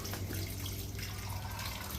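Tap water runs steadily into a sink while dishes are washed by hand, giving a continuous close splashing wash with no talking.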